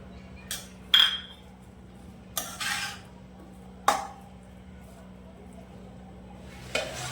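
A spoon mixes paneer and coriander into semolina batter in a metal bowl, with several separate clinks and scrapes and a steady low hum behind them.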